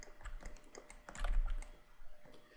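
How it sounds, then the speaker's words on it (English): A handful of quick keystrokes on a computer keyboard enter a number into a 3D program's channel box, light close clicks in a quiet room. "I can type in -90 up here in the channel box."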